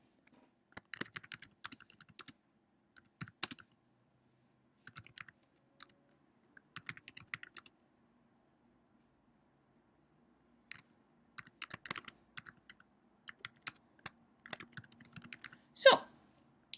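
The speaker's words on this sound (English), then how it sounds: "I'm going to type" Typing on a computer keyboard in short bursts of quick clicks separated by pauses, fairly close and clear, with brief speech mixed in near the start.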